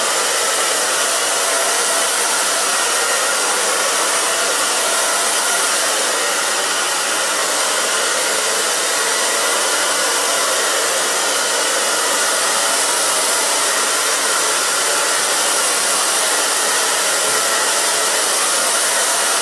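A hair dryer blows steadily and loudly at close range while drying short pixie-cut hair, an unbroken whooshing roar that lasts the whole time without any pause.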